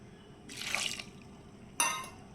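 Water pours briefly into a cooking pot with salted onion, tomato and cooked potato for a kale potato soup, a soft splashing trickle followed by a second short, sharper pour, quiet and close.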